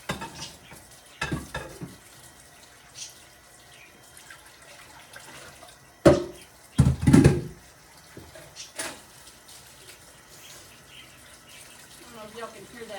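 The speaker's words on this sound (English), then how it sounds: "I'm gonna finish washing these dishes and we'll get on to the next step here." Dishes are washed at a kitchen sink with running water, clinking and a few louder clattering bursts of handled crockery against a soft background hiss.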